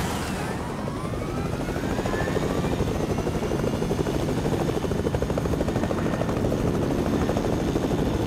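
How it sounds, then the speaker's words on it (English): A helicopter flies in the video game Fortnite, its loud rotor chop pulsing fast and steady while the turbine whine rises in pitch early on, close and constant with no speech. "I'm gonna take your helicopter."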